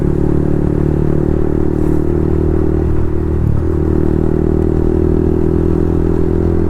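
A Yamaha MT-15 motorcycle fitted with a loud Akrapovic full-system exhaust idles close by, a heavy, steady low rumbling drone with a slight waver midway and no voices.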